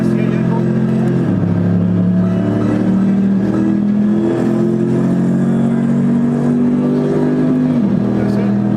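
A racing simulator's car engine accelerating, with its revving drone rising and shifting pitch through several gear changes, loud and steady throughout.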